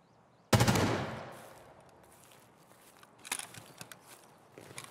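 A sudden loud gunshot burst in the video game Raid, ringing out and decaying, followed a few seconds later by a fainter, more distant volley of rapid shots.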